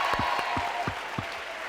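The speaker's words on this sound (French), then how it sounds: "Applaudissements." Studio audience at a French TV show giving a short burst of clapping and light crowd noise, brief and fairly steady, with no talk over it.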